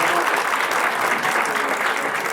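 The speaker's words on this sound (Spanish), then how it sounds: "Un aplauso," Applause from a conference audience for a professor at a public accountants' day event: a steady, loud burst of many hands clapping, with no talk over it.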